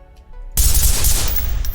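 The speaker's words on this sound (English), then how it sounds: "So we're gonna go ahead and do some single fire at this target here." An M4A1 rifle firing on a range in the Ready or Not shooter, a loud onset after a quiet moment followed by sustained, dense shot noise without any talking.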